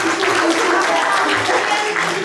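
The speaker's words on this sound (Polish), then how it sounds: "szczególne brawa dla tego młodego mężczyzny" An audience at a Gałczyński fairy-tale show gives a dense, continuous round of applause that stays loud throughout, with some voices mixed in.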